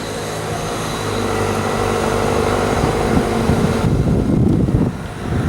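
A bus arrives on a road, its loud engine rumble swelling and roaring close by, then settling with a brief hiss as it pulls in.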